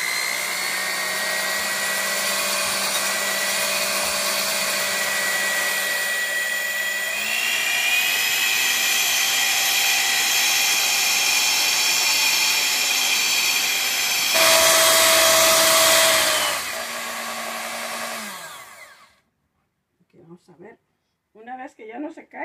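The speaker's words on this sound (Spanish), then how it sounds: "La voy a batir hasta que espuma." Electric hand mixer whipping two egg whites until foamy for a chile relleno batter: a steady close motor whine that shifts speed twice, then cuts off near the end.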